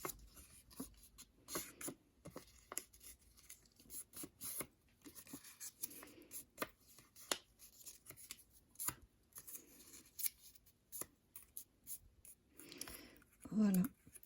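Decorative paper being folded and creased by hand for a tea bag pouch, with scattered crisp rustles, taps and scrapes close up, while a person talks quietly in between.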